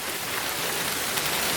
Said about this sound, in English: It's a normal day, and then it just starts showering out of nowhere.